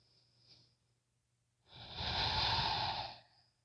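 A person breathing during a yoga pose, a faint short breath followed by one long, loud, airy exhale lasting over a second, close to the microphone with no speech.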